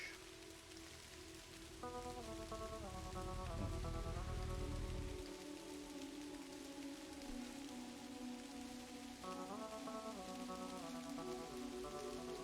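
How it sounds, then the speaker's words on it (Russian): Rain falls steadily in the video game Kathy Rain as a quiet, even hiss under a soft melodic score, with a brief deeper rumble early on and no talking. "Опять под дождем. Когда дождь-то уже кончится?"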